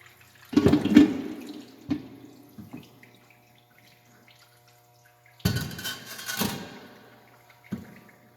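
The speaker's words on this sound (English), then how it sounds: "By tipping the bowl back, the water will drain out the trapway and into the closet ring down the drain with very little spilling on the floor." Water draining out of a toilet bowl tipped back so it runs through the trapway into the drain, heard as gurgling and splashing in two bursts with quiet gaps between them.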